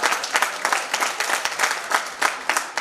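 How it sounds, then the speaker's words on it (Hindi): Audience applause for society officials at a poetry gathering of visually impaired poets, a lively burst of many hands clapping with distinct rhythmic peaks, close and steady throughout. "इनके लिए बहुत तेज तालियां बजाइएगा"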